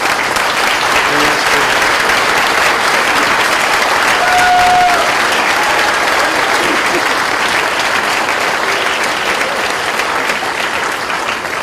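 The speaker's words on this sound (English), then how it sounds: "Let's give a round of applause." Graduation audience applauding for the parents in a sustained, dense round of clapping that holds steady and loud from start to finish.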